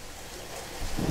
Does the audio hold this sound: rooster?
no